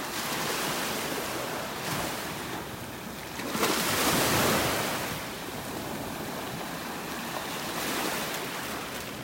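Surf rolls onto a North Naples, Florida beach in a continuous rushing wash, one wave breaking louder near the middle and softer ones following, mixed with light wind buffeting and no speech.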